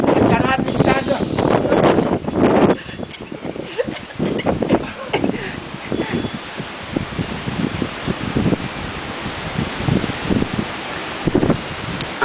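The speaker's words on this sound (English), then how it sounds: "Right behind me here, you can see the wind. You can just see it's blowing." Strong hurricane wind batters the microphone with roaring, gusty buffeting that runs throughout, while a person talks loudly over it.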